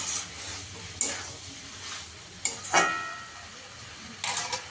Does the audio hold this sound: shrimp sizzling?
yes